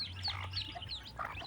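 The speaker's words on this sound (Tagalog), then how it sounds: "Pangalawang bagong sisiw." Newly hatched chicks of a native hen peeping on a farm, high thin chirps that repeat in a busy cluster, close and steady over a low background hum.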